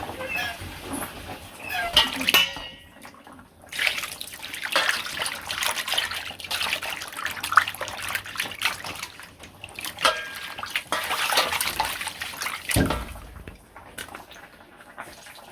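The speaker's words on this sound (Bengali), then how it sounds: "আর এই যে মাছগুলো লবণ দিয়ে মাখিয়ে নিলাম, ধুয়ে নিই।" Salted fish get washed under running water in a village kitchen, the water splashing and trickling in uneven bursts at moderate distance, with brief background noises between.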